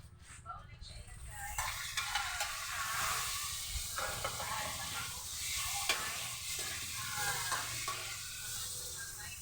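Eggplant fries in hot oil, a continuous close sizzle and hiss with occasional stirring scrapes and bubbling bursts, fairly quiet overall.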